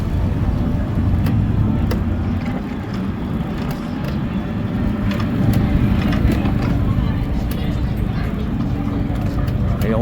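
Classic cars, including an old Nova and Mustangs, roll through a shut-down downtown street at a Waycross cruise-in, a continuous close engine rumble and road noise with no clear pauses.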